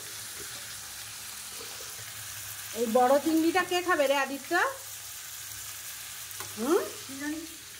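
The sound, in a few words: frying large prawns in a pan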